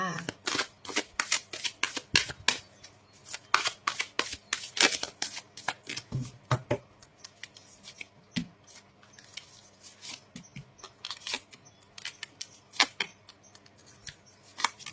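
Tarot-style fortune-telling cards shuffled by hand in a rapid series of crisp riffling slaps and flutters, near and steady for the whole stretch, with no talking over them.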